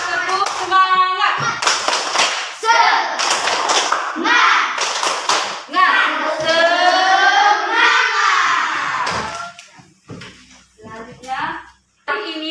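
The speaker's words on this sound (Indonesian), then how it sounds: "Kita tepuk semangat." An elementary classroom claps a rhythmic patterned cheer in unison, loud and close, mixed with the children's chanting voices, with sharp clap bursts throughout.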